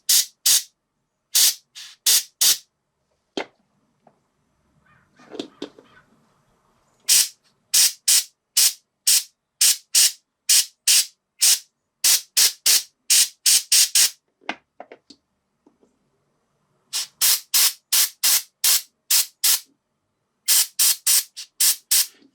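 An airbrush sprays paint onto a miniature model in short, sharp hissing bursts, some quick and evenly paced, others spaced apart, with near-silent pauses and faint handling noises between them.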